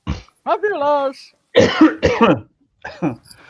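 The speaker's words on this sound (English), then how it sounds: "I do apologize if I keep coughing" Several sharp, loud coughs in short bursts, close by, with a stretch of voiced, wavering sound between them; no clear words spoken.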